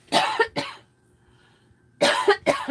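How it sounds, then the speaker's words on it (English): Two bursts of harsh coughing, each a quick pair of close, loud coughs, separated by a quiet pause, from a woman with sinus trouble in a home sewing room. "And I got a cough."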